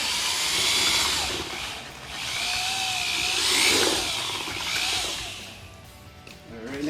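A drill mixer whirs through a soupy batch of self-leveling floor underlayment, the motor rising and falling in several surges as the paddle churns the wet mix, loud and close with faint background noise.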